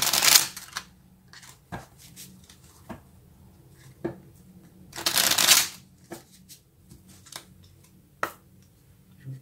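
Tarot cards are shuffled by hand to draw a clarifying card, with quick riffling bursts at the start and midway and scattered soft taps and card slaps between them, all close and quiet.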